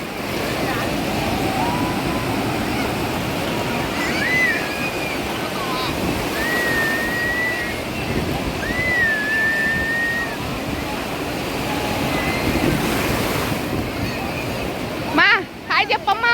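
Big ocean waves break on a beach in a constant roaring wash with wind buffeting the microphone. People talk and call out over the surf, and a brief handling thump comes near the end.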